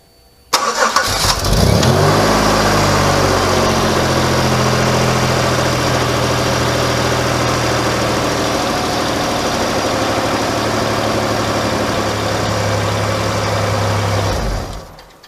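A car engine, its misfire now repaired, cranks and catches, then settles into a steady, loud idle for about thirteen seconds before cutting off, with no one talking.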